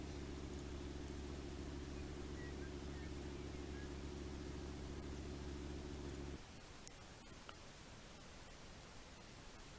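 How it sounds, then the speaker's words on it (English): A truck engine in the BeamNG.drive video game drones with a thick, steady low rumble for about six seconds, then cuts off abruptly, leaving only faint noise. "But this truck sounds aggressive"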